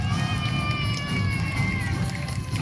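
A crowd at a knights' tournament in Speyer cheering: a dense, loud, sustained roar of many voices with shouts and whistling tones, continuous and close, with no clear single speaker.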